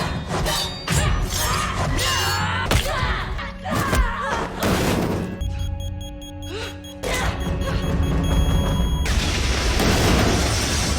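Heavy booms and crashing debris from a video game explosion burst out in a loud, chaotic sequence, with thuds and shattering layered over a dense roar.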